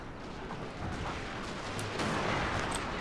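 Musket units fire on a smoky Total War: Shogun 2 battlefield, making a continuous dense roar of massed gunfire with sharper cracks mixed in.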